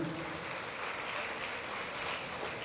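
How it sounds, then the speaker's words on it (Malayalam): An audience at a public event applauds a guest being introduced, a dense, even clapping that stays loud and unbroken from start to finish. "നമ്മുടെ എല്ലാവരുടെയും പ്രിയപ്പെട്ട ഒരു കയ്യടിയോടുകൂടി ശ്രീ അജു വർഗീസ്"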